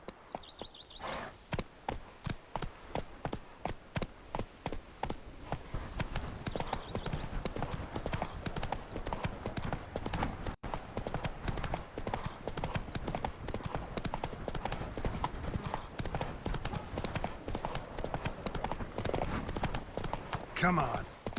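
Horse hooves clip-clop steadily in Witcher 3: Blood & Wine, a fast rhythmic run of close, distinct hoofbeats that continues throughout, with a voice talking briefly over it.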